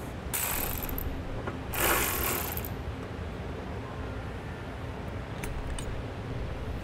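Socket ratchet working the 17 mm bolts out of a car frame rail during trailer hitch installation on a 2007 Subaru, giving two loud bursts of rapid clicking near the start, then fainter intermittent clicks.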